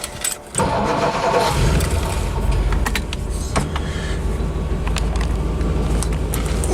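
A 1956 Lincoln Premiere four-door being started in neutral, with a brief cranking whir before the engine catches and settles into a loud, steady idle with light clicks nearby.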